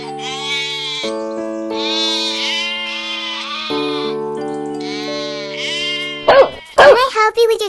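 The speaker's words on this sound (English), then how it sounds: "Reya, the four sheep have reached the pond" Cartoon sheep in a children's addition lesson bleat in loud, drawn-out, wavering calls over steady background music, followed by a few short, sharper bleats near the end.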